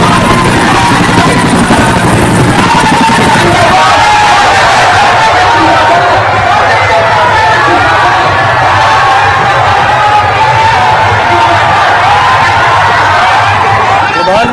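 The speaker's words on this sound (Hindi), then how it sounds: "पीएम मोदी का हेलीकॉप्टर गांधी मैदान पहुंचा।" A helicopter carrying the prime minister lands at a helipad on Gandhi Maidan amid a large crowd, its heavy rotor drone loud and steady while crowd noise and cheering surge around it, with a voice talking over the scene.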